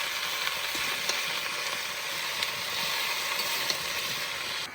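Malabar spinach frying in a kadai with pumpkin and ginger as it is stirred, a steady close sizzle with faint scraping, alone without talk.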